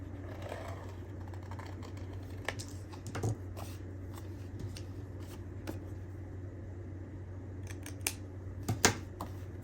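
Paper being cut with scissors while tracing and trimming a vintage-style printable, heard as scattered soft snips and a few sharper cuts near the end over a steady low hum, with no talk.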